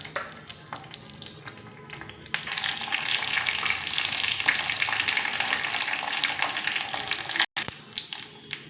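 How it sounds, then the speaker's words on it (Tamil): Mustard seeds, urad dal and dried red chillies splutter in hot oil in a small tempering ladle, rising into a loud, steady crackling sizzle with brief pops, heard alone without talk. "கடுகு பொரிஞ்சதும்"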